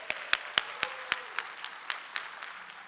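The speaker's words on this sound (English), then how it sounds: "Let's give them a round of applause." A small audience at a neighborhood poster contest event claps slowly and sparsely, about a dozen distinct, fairly faint claps at a steady, unhurried rhythm that fade toward the end.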